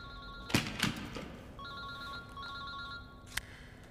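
A telephone rings in a crime drama film scene: a couple of sharp knocks come first, then a quiet electronic ringtone repeats steadily for a few seconds before a short thump at the end.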